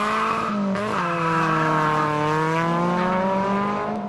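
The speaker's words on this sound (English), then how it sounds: "it lets out a fuel-injected supercharged bark from the Super Trap muffler" Supercharged fuel-injected Honda S600 with a Super Trap muffler and locker diff launching, a loud close exhaust bark that climbs sharply in pitch and holds a strained high rev through the run.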